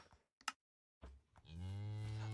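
A cow in the Minecraft video game lets out a long, loud, low moo after a few brief clicks and game noises, the bellow holding steady to the end without any talking.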